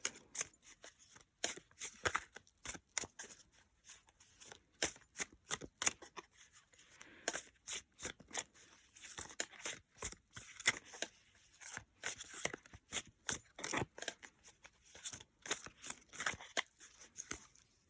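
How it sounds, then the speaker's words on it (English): Rapid bursts of crisp card riffles and flutters, repeated in quick clusters throughout, close and fairly quiet with no talking. "Let me give it a quick shuffle."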